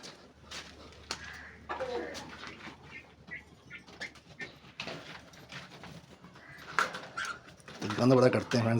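Pigeons coo softly among rustling and fluttering wings, with a person talking over them and scattered clicks and taps nearby.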